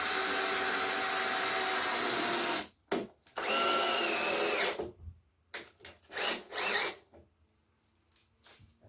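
A power drill drives screws into a quarterpipe skate ramp in two long whirring bursts, followed by several short spurts and quiet gaps, close and fairly loud.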